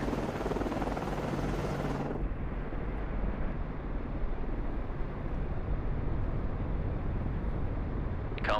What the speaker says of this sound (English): Flyco, aircraft ready to launch. Con, Flyco, launching aircraft.